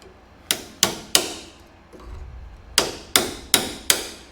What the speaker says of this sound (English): Trick is grab a pair of pliers and then tap on it.